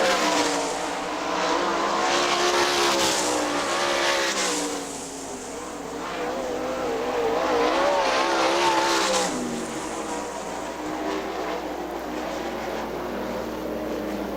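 Sprint car engines roar loudly around a dirt speedway oval at a Great Lakes Outlaw Sprint Series race, swelling and fading as cars pass while one spins out between turns three and four, with no voices.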